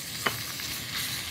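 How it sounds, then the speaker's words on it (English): Spices, ginger and garlic sauté in a hot pan with a dense, continuous sizzle. A single short clatter comes near the start. "I'm assuming this is all just going to get sauteed in here?"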